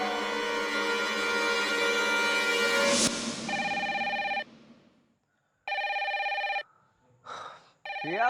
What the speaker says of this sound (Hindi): पिया फोन उठाओ।